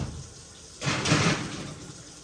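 An oven door swings open and a sheet pan of walnut-meat empanadas slides in, a brief close metallic rumble and scrape lasting about a second, then a small clunk at the end.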